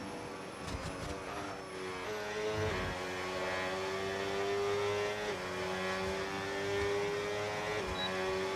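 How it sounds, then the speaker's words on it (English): Racing vehicles speed down a straight, a sustained high engine whine rising and shifting pitch as they pass, steady and fairly loud with no talking. "And Toro overtake Ruben on the straight"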